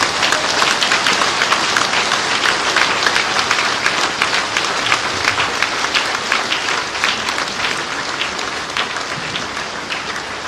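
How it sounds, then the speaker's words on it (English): An induction ceremony crowd gives the president a rousing ovation: dense, sustained applause from many hands fills the whole stretch, loud and even, easing slightly toward the end. "give our president, the 54th president, a rousing applause."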